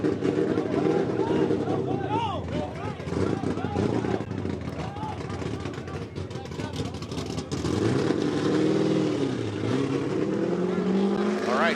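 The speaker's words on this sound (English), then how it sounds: "After he spun out backwards, sounds like marbles in his engine" A Formula Drift car's engine at a New Jersey event, rattling like marbles after spinning out backwards, drones loud and close with continuous rough, wavering tones that shift pitch partway through, with voices in the background.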